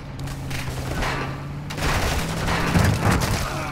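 Gunfire in the video game Call of Duty DMZ, bursts of shots and heavy booms heard from a distance over a steady vehicle engine drone, growing denser toward the end.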